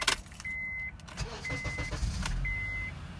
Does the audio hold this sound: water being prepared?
no